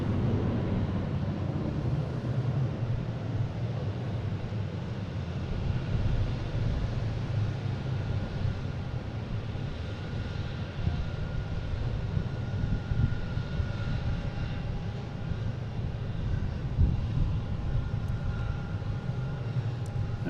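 An Embraer E-175 regional jet on flight 5807 at Boston Logan International Airport gives a steady, moderately loud engine rumble and roar that holds evenly throughout, with no talk over it.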